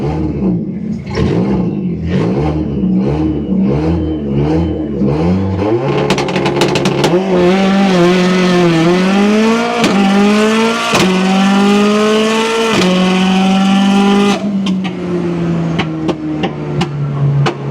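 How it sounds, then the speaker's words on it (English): A tuned Vauxhall Corsa drag car, a 10-second quarter-mile runner, revs hard and pulls through rising gear shifts, its engine note climbing and dropping loud and close throughout with no voices. "we were lucky enough to join Adam Crank for a run in his Vauxhall Corsa"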